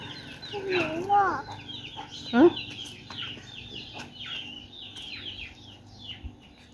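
Chickens cluck and squawk close by in a rural yard, a few louder calls standing out against a scatter of softer clucks, with people's voices faintly mixed in.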